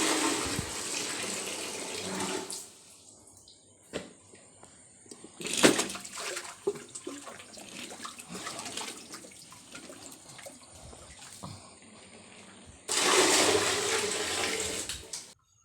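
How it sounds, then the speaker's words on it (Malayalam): Water is drawn and poured out in two loud splashing bursts at the start and end, with quieter trickles and knocks between, used for mixing soil into mud outdoors. "അപ്പം വെള്ളം കോരിക്കൊണ്ടിരിക്കുകയാണ്"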